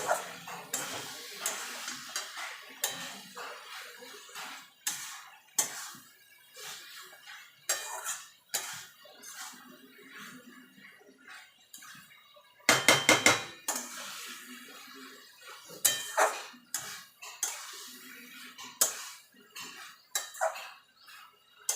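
Cabbage curry with garam masala being stirred in a pan, sharp repeated clanks and scrapes of a metal spoon against cookware in irregular bursts, with quieter gaps between, close by and without talk.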